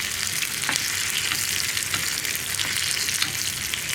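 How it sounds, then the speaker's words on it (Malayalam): Onions and curry leaves fry in a pan for a kumbalanga (ash gourd) milk curry, giving a constant, close hiss of sizzling with light scrapes from stirring. "ഇതെല്ലാം ഇനി നന്നായിട്ടൊന്ന് കുക്കായി വരുന്നത് വരെ ഇളക്കി കൊടുക്കുക"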